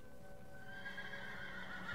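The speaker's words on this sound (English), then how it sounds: "Ooh, another horse." A horse in the Minecraft video game neighs in a drawn-out whinny while hooves clop steadily underneath, fairly quiet and continuous across the whole moment with no talking.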